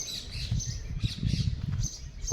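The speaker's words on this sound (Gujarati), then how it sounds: "પોપટ બોલે" A parrot squawks repeatedly in short, harsh bursts at an outdoor spot with a banyan tree, mango trees and what looks like a cowshed, fairly close and over steady background noise.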